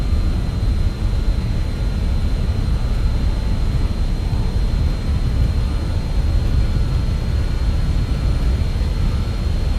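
Jet engines of a BAe RJ100 at takeoff thrust in Microsoft Flight Simulator, a steady loud roar with a faint high whine running under it, holding constant from start to finish with no talking.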